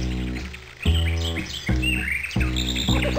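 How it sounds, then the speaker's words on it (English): Umbrella bird calls in the Blue's ABC Time children's video game, a loud, clear series of four repeated synthetic chirping bird notes with a low resonant hum, steady and close, with no speech. "Umbrella bird."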